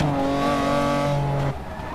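A McLaren F1 GT in the racing game Forza Motorsport 6, on the COTA West circuit, gives a loud, steady engine drone with a harmonic whine that drops abruptly partway through, as if shifting or lifting off.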